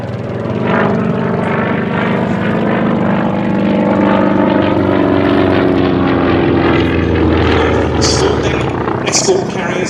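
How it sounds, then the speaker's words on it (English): Grumman Wildcat FM2 fighter with a 1350 horsepower Wright R1820 radial engine droning loud and steady as it flies past at the Shuttleworth Fly Navy airshow, the tone swelling and shifting; a voice talks over it. "the FM2 that we have here with the more powerful 1350 horsepower Wright"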